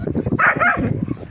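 A dog lets out a short bark of about half a second, loud and fairly close, on a brief walk with several dogs and wolves nearby.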